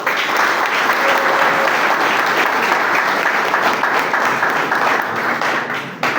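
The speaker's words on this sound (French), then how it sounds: "Je pense que vous pouvez applaudir les membres de la constituante." A seated audience applauds the members of a constitutional assembly at an African political gathering, a dense, steady wash of clapping that continues loudly for about six seconds with faint voices mixed in.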